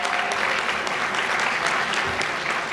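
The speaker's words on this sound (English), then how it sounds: "let's give her a round of applause" A dinner audience at a chamber of commerce awards event gives the co-chair a round of applause, a steady dense clapping from a large crowd, close and continuous throughout.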